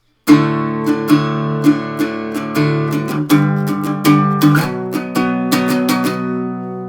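An electric guitar strums a steady series of ringing power chords, including G, roughly one stroke every half second, with each chord sustaining into the next. No voices are heard.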